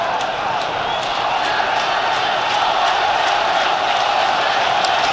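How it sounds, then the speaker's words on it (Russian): Azerbaijan national team supporters in a packed football stadium during a World Cup qualifier against Russia, a steady loud roar of crowd cheering and chanting filling the whole stretch, with no break. "Это болельщики сборной Азербайджана сейчас оживились."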